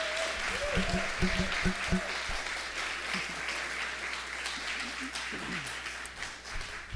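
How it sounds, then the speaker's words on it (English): A concert audience applauds steadily at a spring concert of a folk duo, a dense wash of clapping with voices and cheers mixed in throughout. "please give a round of applause and big love to Lisa Schaefer."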